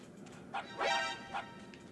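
Dogs in the Metal Gear Solid Twin Snakes video game give a few short, fairly faint barks and yips, three quick bursts against quiet background ambience.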